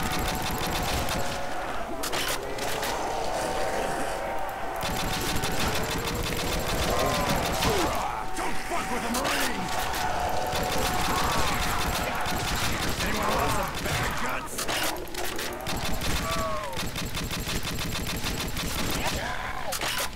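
Rapid gunfire bursts rattle almost continuously through a Nazi zombie video game round, with game effects and voices mixed in under the shooting.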